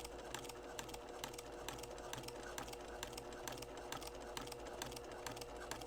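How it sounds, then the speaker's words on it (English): A domestic sewing machine stitching in the ditch along the seams of quilt blocks, running at a steady fast whir with rapid even needle clatter throughout, fairly quiet and close with no talk. "when I stitch in the ditch, that is about as fast as I'm going to go"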